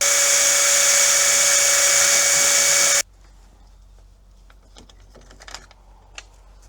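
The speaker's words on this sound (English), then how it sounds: "Now I just have to drill that side hole." A loud, steady power drill whirring drone runs for about three seconds while drilling a door's side hole for a deadbolt, then cuts off abruptly, leaving faint scattered clicks and light handling noises.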